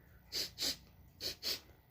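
A person imitates a giant sniffing the air, with four quick, breathy nasal sniffs in two close pairs, near and moderately loud.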